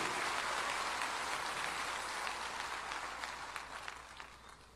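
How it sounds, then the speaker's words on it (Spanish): Church congregation applauding in praise during a Spanish-language evangelical service, a dense, steady wash of clapping that fills the space and slowly tapers toward the end. "¿Puede darle un aplauso de gloria a ese Dios"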